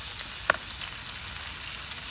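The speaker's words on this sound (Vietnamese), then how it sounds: "đậu rán chảo gang" Tofu frying in a cast iron pan gives a steady, dense sizzle and crackle throughout, with one brief sharper pop near the start and no voices.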